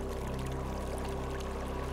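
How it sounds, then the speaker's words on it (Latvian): Water from a mountain stream babbles and gurgles in a steady, close, continuous flow, with no voices over it. "klausies, kā čalo ūdens strautā"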